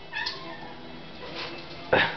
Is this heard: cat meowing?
yes